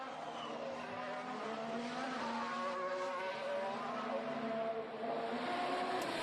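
A Formula 1 car on a fast Q2 qualifying lap at Monaco in 2021 with DRS open: a high-pitched engine note rising and falling through gear changes, heard at a moderate distance and fairly faint.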